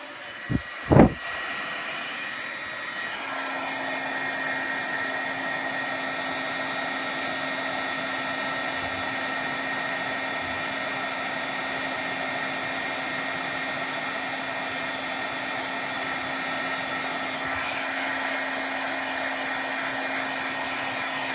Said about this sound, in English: it's gonna be a little noisy here while I heat emboss that